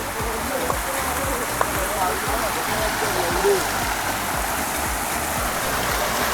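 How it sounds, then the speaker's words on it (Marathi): Steady flowing stream water rushing over stones at a village creek during crab catching, a continuous broadband wash with faint voices in the background. "मस्त वाहतं पाणी आहे."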